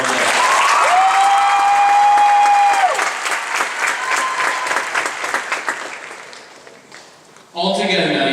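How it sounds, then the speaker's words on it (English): A graduation ceremony audience gives a loud, sustained round of applause, with a sung or held vocal tone at first, then the clapping thins and fades before a voice resumes abruptly. "Give him another round of applause."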